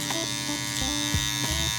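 An electric shaver buzzes steadily and close while cutting hair on a taper fade, a constant motor hum with brief shifts in pitch as it moves across the head.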